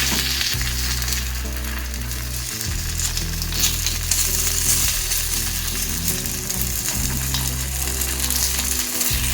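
Kuzhi paniyaram, spicy Tamil dumplings, frying in oil in a pan, giving a steady loud sizzle throughout with low rumbling pulses and no speech.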